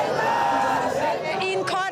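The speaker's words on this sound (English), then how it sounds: "Crowds swarmed the Iranian president on the streets of Tehran." A dense crowd on a Tehran street thronging the Iranian president, with loud continuous shouting and chanting voices blended into a roaring mass, close and unbroken.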